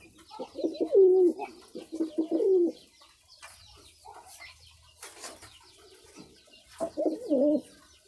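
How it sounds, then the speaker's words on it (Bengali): A male pigeon coos in repeated rounded, throaty phrases, close and clear, with short quieter gaps and some faint background noise between bursts. "আর নটটা কীভাবে ডাক দিয়ে দেখেন একটু"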